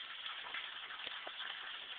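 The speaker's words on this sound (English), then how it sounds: "Look at the rain. It's rain pouring." Rain falls steadily in a soft, distant-sounding wash, faint and continuous with a few slightly sharper drips, and no voices over it.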